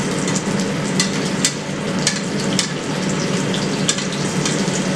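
Seared salmon being basted with hot grease in a pan, a loud steady sizzle and crackle with sharp spitting pops as the fat is spooned over, no voices.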